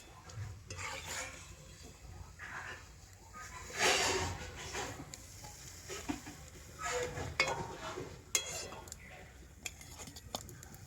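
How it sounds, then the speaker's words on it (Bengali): Sweets frying in a kadai with utensil scraping and stirring against the pan, low sizzle and clinks of cookware throughout, louder clatter now and then. "আর ওই সেম ভাবে পরের মিষ্টিগুলো ভেজে নেব"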